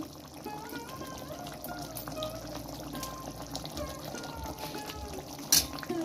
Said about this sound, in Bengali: আর একটু জল দিতে হবে, কারণ মাছগুলো পুরো চোবেনি।